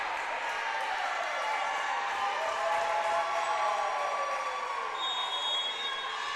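Loud indoor crowd roar and cheering in a gym during a Kentucky girls' high school volleyball match, a continuous dense wash of voices with some shouts.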